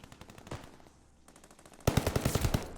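Welgun automatic fire in Call of Duty: Vanguard, a short rapid burst, a brief pause, then a louder sustained string of close rattling shots.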